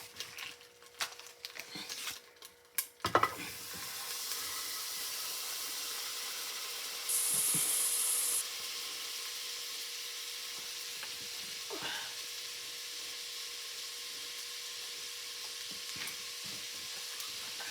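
Half a stick of butter melting in a pan for Alfredo sauce, a steady soft hiss and sizzle running throughout after a few brief clatters at the start.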